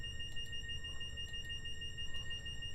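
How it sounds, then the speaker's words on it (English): A passenger emergency alarm sounds in a Class 220 train cab in Train Simulator Classic, a steady high electronic tone held over a low engine rumble, with faint periodic clicks. "a passenger has pressed the emergency communication numbers will come on"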